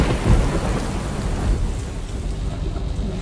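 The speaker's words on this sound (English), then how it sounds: "the rain seems like it's emanating from a certain ceiling" Steady heavy rain with a low rumble of thunder fills a video game level, dense and loud throughout with no talk.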